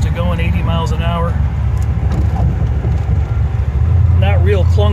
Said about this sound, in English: I like driving down this road because it's full of patches and Michigan holes